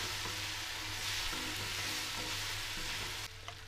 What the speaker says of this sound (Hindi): आलू के साथ मसालों को खूब अच्छे से हम भून लेंगे